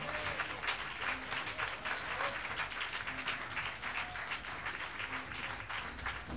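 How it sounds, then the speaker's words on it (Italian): An evening audience applauds to welcome World Cup ski champion Massimiliano Blardone at a ski club gathering, a steady, dense wash of clapping that holds evenly throughout. "Un applauso!"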